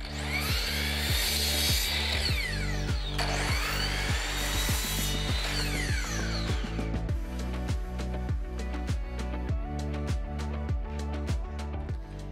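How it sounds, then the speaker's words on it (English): A power saw cuts 1x2 wooden boards to size with a loud, close, rhythmic rasping, repeated bursts of strokes through the wood, sharper and brighter early on, then continuing more roughly without any speech. "the first thing I need to do is cut the 1x2s to size"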